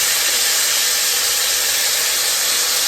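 Thin-cut steak for beef stroganoff searing in a hot pan on high heat, a loud steady broadband sizzle with fine crackling and popping, continuous and close, with no talk.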